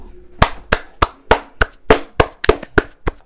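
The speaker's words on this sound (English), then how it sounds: "Can I get a round of applause?" Sharp, evenly spaced hand claps, about ten in three seconds, close and distinct with short gaps, likely only one or a few people rather than a full crowd, following a call for applause during a show marking Black History Month.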